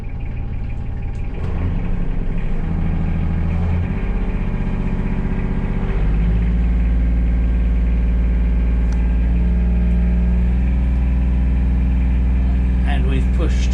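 A boat engine revs up and holds a steady, loud drone near 2,500 rpm during a starter battery test, its pitch rising early and then staying constant, with speech underneath.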